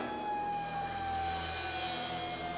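Emergency sirens wail steadily at a distance as ambulances push through a huge crowd, the tone gliding slowly amid a broad wash of background noise.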